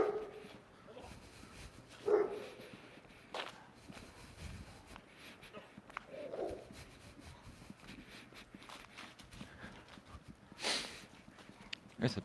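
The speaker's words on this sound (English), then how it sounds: "There's a big German Shepherd over there barking at people" A large German Shepherd barks in a few scattered, fairly distant bursts outdoors at people, amid footsteps and general background noise.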